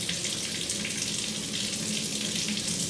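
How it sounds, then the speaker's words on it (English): Water from a tap runs steadily into a sink or tub while being readied for a puppy's bath, making a constant, close splashing hiss with no speech. "I want to get the water temperature right before I put my dog under it."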